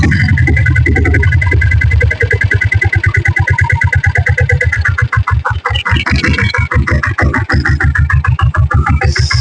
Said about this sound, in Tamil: இப்போ நான் வண்டி ஸ்டார்ட் பண்ணி காட்டுறேன் பாருங்க